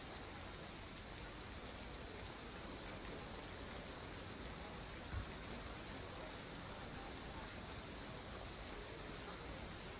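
Steady rain in the Train Sim World 2 train simulator, a faint, even hiss with no breaks that lasts the whole stretch, with no voices over it.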